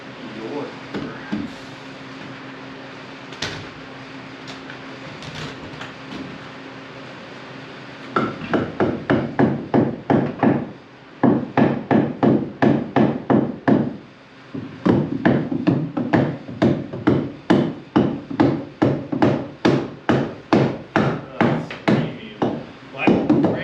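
Rapid, steady hammer blows ring out on wooden interior framing in an 1860s cottage rebuild, a brief pause between bursts, loud and close; scattered knocks come first.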